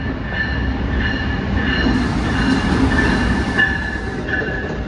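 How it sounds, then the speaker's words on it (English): An Amtrak train rolls through Secaucus station, loud and close, its steady rumble carrying a sustained high wheel squeal and faint rhythmic clacking of the rails. "That Amtrak is going to Boston."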